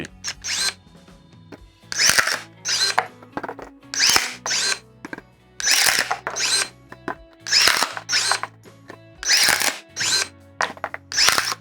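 Procraft ES32Li cordless pruning shears bite into a 23.5 mm pine board, their motor whirring in about ten short, loud bursts with quiet gaps and clicks between cuts, heard close up.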